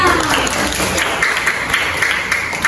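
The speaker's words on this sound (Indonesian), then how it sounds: "Ya, tepuk tangan." A burst of clapping from a middle-school class, steady and dense for a few seconds, with voices mixed faintly underneath.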